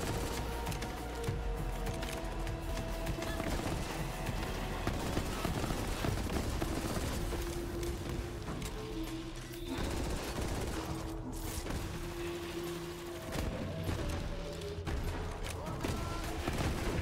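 Rapid bursts of corrosive pistol fire in the video game Borderlands 3 rattle almost continuously under dense combat effects, loud and sustained with short gaps between volleys.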